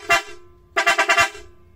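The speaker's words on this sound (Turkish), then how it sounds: "çat çat kornayla bir şeref turu atarsın" A Mitsuba "çat çat" car horn sounds one short toot, then after a pause a loud, rapid series of about four pulsed blasts, close and clear.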